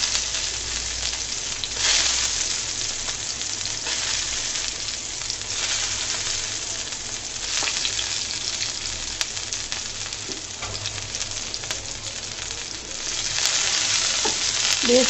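Garlic and green chilies fry in a little soybean oil in a pan, giving a loud, continuous sizzle that swells in bursts as the food is stirred.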